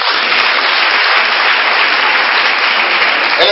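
A church congregation claps to cheer Jesus, a dense, even burst of applause that holds steady at full strength from start to finish.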